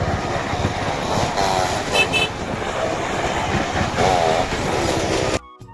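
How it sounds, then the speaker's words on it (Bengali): Toy train at a Basirhat amusement spot giving loud horn toots over its steady rumbling run, with busy outdoor background noise. "কত সুন্দর একটা টয় ট্রেন"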